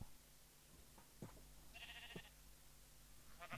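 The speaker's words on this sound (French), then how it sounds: "t'entends les moutons" Faint sheep bleats from the video game Minecraft sound a few times against a soft steady background, with light clicking steps in between.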